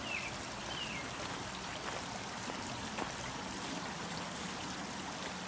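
Water trickles steadily from a stacked stone birdbath top into its bowl, a soft continuous splashing and rippling at low level with no talking over it.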